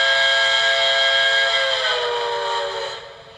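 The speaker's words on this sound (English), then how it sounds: "can you blow the whistle?" An HO-scale model steam locomotive whistle on a model steel mill layout blows one long, bright, multi-toned blast close up, with an echo, then fades away at the end.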